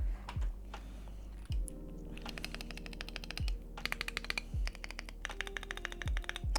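Typing on a Cyberboard Terminal mechanical keyboard with pre-installed stabilizers fitted with washers: close, clicky keystrokes in quick bursts, with occasional heavier thocks from larger keys, no voices.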